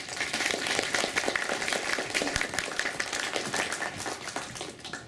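An audience at an indoor integration gathering claps for two men, a full even round of hand-clapping that keeps a steady, lively density throughout without tailing off.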